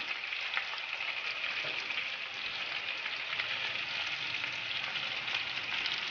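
Menemen, the Turkish egg and tomato dish, sautéing in a pan, giving a steady, close hiss of sizzling with faint crackles throughout and no talk.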